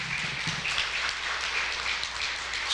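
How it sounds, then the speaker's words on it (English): Audience applause for Dean Bozarth at a faculty hall of fame reception: a sustained, even patter of many clapping hands at moderate volume, holding steady without pause. "Give me a round of applause to Dean Bozarth for putting this event together"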